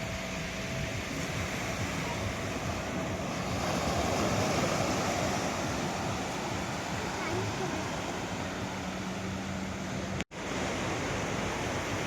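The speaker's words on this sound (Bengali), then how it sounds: "সমুদ্র আসছে, জল জল।" Waves roll onto the sand at Digha beach in a dense, unbroken hiss of surf and wind, steady and close throughout, with a brief dropout near the end; faint voices may sit beneath the roar.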